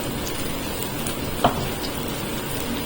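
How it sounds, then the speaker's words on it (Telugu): Rain falling outdoors near a kitchen where a roasted brinjal curry cooks makes a steady, even hiss throughout, with one brief sharp click midway and no talk. "వర్షం పడుతుందండి, కొంచెం డిస్టర్బెన్స్గా ఉంది"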